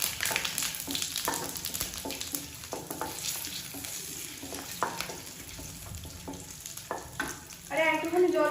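Whole cumin seeds, added after dried red chillies and a bay leaf, sizzle and crackle in hot oil in a pan, a steady close hiss with small pops and stirring scrapes.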